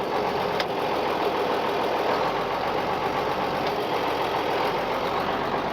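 A tractor engine idling steadily at close range, a low, even rumble with a faint knocking pulse that holds at a constant level and never revs up.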